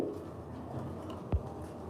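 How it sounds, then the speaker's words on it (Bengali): Mundian pigeons coo softly in a low murmur, with a single brief thump partway through, close and faint in an enclosure. "দর্শক অনেক কবুতর নিয়ে আসছি"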